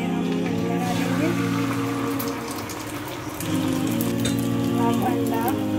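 Beaten egg mixed with milk for an omelette hisses and sizzles loudly in a hot pan, a steady close frying crackle that softens briefly midway, with a voice talking over it.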